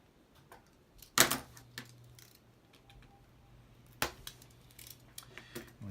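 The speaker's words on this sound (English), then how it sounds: "Another toothpick cut in half." A wooden toothpick is snipped in half, giving a few sharp, close clicks and snaps separated by quiet pauses, with small handling taps between.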